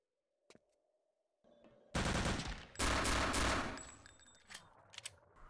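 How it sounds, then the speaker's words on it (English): Heavy automatic gunfire from a Return to Castle Wolfenstein competitive match, with a brief shot early, then sustained loud bursts of rapid fire that rattle on and taper into scattered shots. "Nice headshot from Mata."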